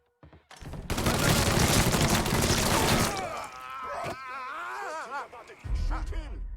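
Dense burst of gunfire in the video game Mafia 3, loud and continuous for a few seconds, then tapering into scattered noises and voices shouting in the game.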